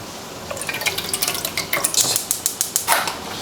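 Pasta sauce warming in a pot on the stove, with a utensil scraping and clinking against the metal in a quick series of close, bright knocks and no voices.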